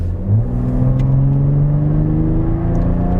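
A BMW G21 M340i with an intake, 200-cell downpipe and full catted Fi valvetronic exhaust revs up, its engine note climbing steadily in pitch into a loud, close, throaty rise.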